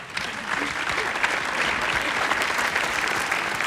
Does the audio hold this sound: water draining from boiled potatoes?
no